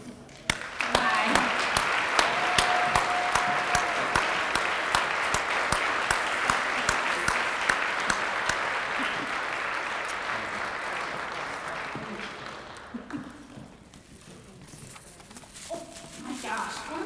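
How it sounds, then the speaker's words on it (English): A large audience applauds at a community gala, a dense, steady wash of clapping that holds for about twelve seconds before thinning and fading, with a voice speaking over the tail end. "and we applaud you"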